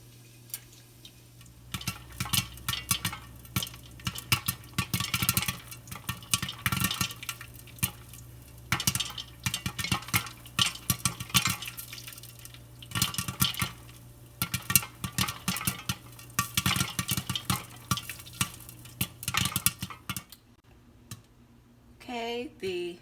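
Hot oil pops and crackles inside a lidded Instant Pot in dense irregular bursts that thin out toward the end, close and fairly loud, followed by a brief voice.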